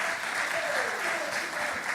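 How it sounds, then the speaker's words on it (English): A round of applause fills a legislative house chamber, steady dense clapping from many hands throughout, with a faint voice underneath. "Can we possibly give the public service a round of applause?"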